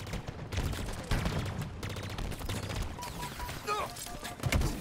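Burst rifle fire in Halo Infinite multiplayer: rapid, dense volleys of gunshots rattle almost without pause, mixed with game effects and tones near the end, while a player talks over the action.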